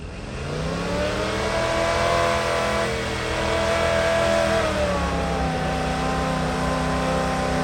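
An old K-series off-road truck with a small block Chevy engine that has a misfire, revving hard and steadily on a snowy trail, loud and close throughout with rising and falling engine pitch.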